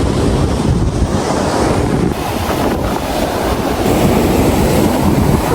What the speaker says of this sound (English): Now we're headed to the beach, so Ezra can go swimming for his first time